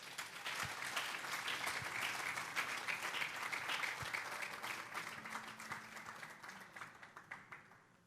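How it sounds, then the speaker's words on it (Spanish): A church congregation breaks into sustained applause that swells, holds, then gradually thins toward the end, heard at a moderate distance in a large hall. "Dale un fuerte aplauso al Señor."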